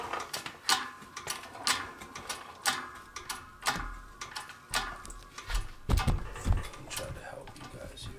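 Mechanical clicks, creaks and metallic knocks from a suspension bushing being pressed out of its socket with a tool under heavy pressure, with irregular close taps and a few louder thumps near the end.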